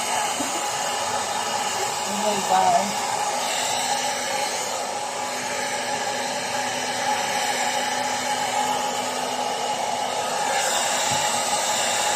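A steady, loud hair dryer roar blows throughout, with a brief voice exclaiming partway through.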